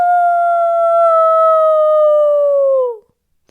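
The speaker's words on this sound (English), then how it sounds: "in the distance, I heard the long howl of a wolf" A single long wolf howl rises clear and sustained for about three seconds, then slides downward and fades out, leaving silence.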